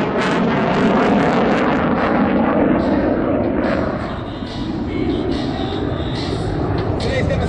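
A two-seat F/A-18F Super Hornet flies a demonstration at NAF El Centro, its jet engines making a loud, continuous roar that swells and dips slightly as it passes, with an announcer talking over it.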